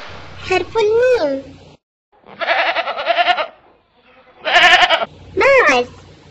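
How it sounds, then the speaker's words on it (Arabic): A goat bleats four times in wavering, nasal cries separated by short pauses, each call loud and close with no other sounds around it. "ماعز"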